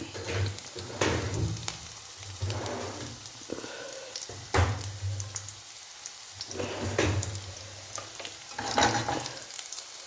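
Cumin, ginger and garlic sizzle and crackle steadily in hot oil for radish thoran, with occasional stirring scrapes in the pan and no voices.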